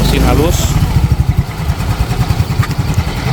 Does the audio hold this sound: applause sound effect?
no